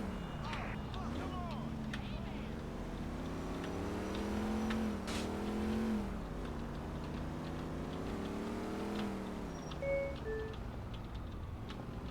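A car engine in GTA 4 drones and revs up and down steadily as the car is driven, with faint voices mixed in under the motor.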